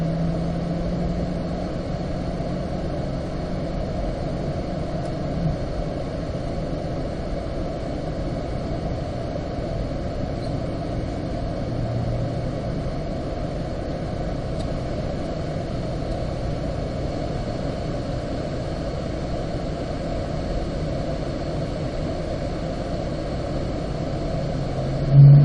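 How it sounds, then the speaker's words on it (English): Car cruising slowly on the way to the track entry at Spring Mountain racetrack, heard from inside as a steady, even low engine and road hum with no change in pace throughout. "we're going to cruise over to our track entry"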